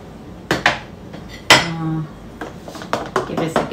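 A spoon mixing rice with coconut oil in a bowl for rice pudding, giving a few sharp clinks and scrapes against the bowl, close, with a brief ringing tap and light stirring rustles.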